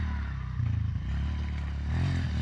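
A Piranha P125E dirt bike with small wheels, ridden over rocks, its engine chugging and revving unevenly under rattling and scraping from the rough ground, close and continuous.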